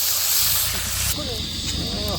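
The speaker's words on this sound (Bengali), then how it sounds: "এখন তেল ঢেলে দিলাম মাছ ভাজার জন্য" Loud hissing sizzle as shrimp hits hot oil, steady and close, with a voice speaking briefly over it.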